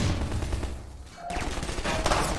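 Video game gunfire in Half-Life 2 Episode One: a string of loud, close shots and clatter, a short lull, then more shots cracking through the noisy scene.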